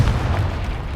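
A Confringo fire spell explodes in the wizarding game Hogwarts Legacy, heard as a short, deep, loud boom with a rumbling low body that holds for about a second.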